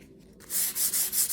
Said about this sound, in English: This is just a very light sanding.